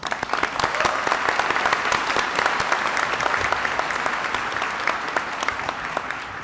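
Sustained audience applause at a commencement ceremony, dense and even across many hands with crisp individual claps standing out, fairly loud and steady before easing slightly at the end.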